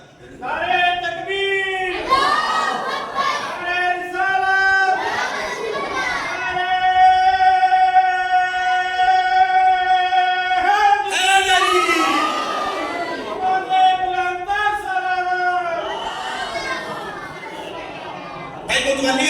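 A large audience at a Muharram religious gathering chants slogans in unison, rising repeated vocal waves that swell and fall, loud and close, with a lead voice calling between bursts.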